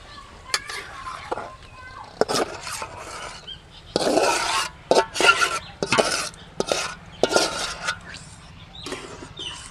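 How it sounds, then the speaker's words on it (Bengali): A sago mixture is stirred into water in a wok, with uneven scraping and rubbing bursts of a spoon against the pan, close and moderately loud. "এবার সাবুন মিশ্রণটা দিয়ে ভালো করে গুলিয়ে নেব"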